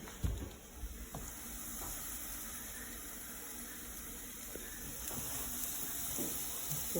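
Ground beef for homemade chili sizzles in a pan with a soft, even crackle, joined by a few faint clinks and stirring sounds.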